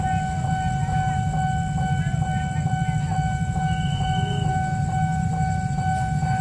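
A train arriving from the Jatinegara direction at an Indonesian rail crossing, with steady rumbling wheels under a continuous high warning tone from the crossing signal, fairly close and unbroken throughout.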